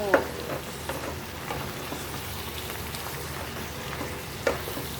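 Tomato stir-fried with snake gourd and shrimp in a pan gives a soft steady sizzle, with occasional scrapes and clicks of the spoon.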